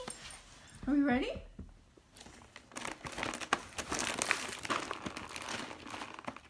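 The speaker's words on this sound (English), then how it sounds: "You can hear the sound of the treats." A bag of dog treats crinkles and rustles in bursts close by, with a voice speaking briefly just before the crinkling starts.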